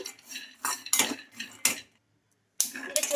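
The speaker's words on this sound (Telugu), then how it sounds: "ఇందులోకి హాఫ్ కప్పు పల్లీలు అయితే వేసుకోవాలండి ఇంకా ఇవి బాగా ఫ్రై అవ్వాలి" Peanuts being dry-roasted in a kadai, with a series of sharp metallic scrapes and rattles of a utensil against the pan, a short pause, then more scraping; close and fairly quiet, no talk.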